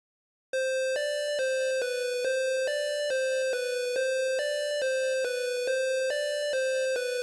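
Bright synth pluck melody for a trap beat, a steady string of short, evenly spaced notes bouncing between two or three pitches, clean and alone with no drums.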